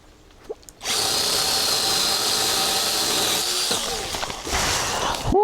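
A compact narrow-chain saw cuts into wood during woodland work, giving a loud, steady, high buzzing close by that holds for about three seconds before easing off with brief sputters.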